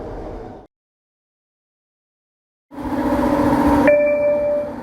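A SkyTrain car runs on Vancouver's Expo Line with a loud, rumbling hum. The sound drops to silence for about two seconds, then returns and gains a steady tonal whine or signal tone near the end.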